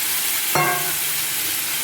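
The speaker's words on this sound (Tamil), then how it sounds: "இதை லைட்டாக கிண்டி விடுவோம்" A steady hiss of brinjal rasam ingredients frying in a pan, with a brief scraping stir partway through, heard up close and alone.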